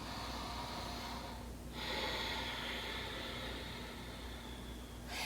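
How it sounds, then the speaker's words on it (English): Ujjayi breathing during a yoga class, audible ocean-like breaths through the throat, a long drawn exhale and inhale sounding close and breathy over steady room noise. "Turn on Ujjayi breath, breathing with sound."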